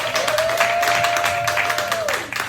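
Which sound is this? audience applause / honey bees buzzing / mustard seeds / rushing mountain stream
audience applause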